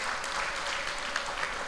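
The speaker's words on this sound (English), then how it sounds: "Can we clap for the province of the legends?" An audience applauds at a provincial education awards ceremony in the Eastern Cape, a dense, steady wash of many hands clapping that fills the hall without pause.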